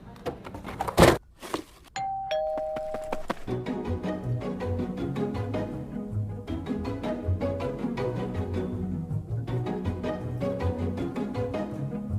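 A doorbell chime rings at a house during a ding dong ditch prank. The short tones come after a couple of sharp knocks and give way to loud, steady background music.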